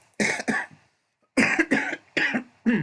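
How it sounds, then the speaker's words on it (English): Three bursts of coughing, each a pair of sharp, close coughs, separated by brief silences; no talking. "Cough."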